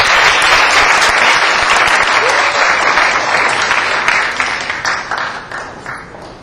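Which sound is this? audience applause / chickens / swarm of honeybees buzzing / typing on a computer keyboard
audience applause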